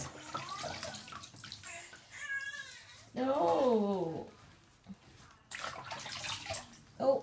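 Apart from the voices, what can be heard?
water running while washing a baby's hair in the bath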